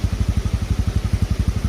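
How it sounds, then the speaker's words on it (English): A 2023 Honda CT125 Cub Hunter's single-cylinder engine runs close by with a steady, rhythmic low thumping pulse, each firing stroke distinct in an even idle-like beat, with no talking. "a single cylinder engine, you know, don't expect much sound out of it, but this one actually sounds pretty nice for a small bike"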